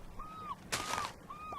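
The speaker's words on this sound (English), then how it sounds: "Those are noisy birds, those really are." Seagulls near a shoreline, three short plaintive calls in quick succession at moderate distance, one overlapping a brief burst of broadband noise.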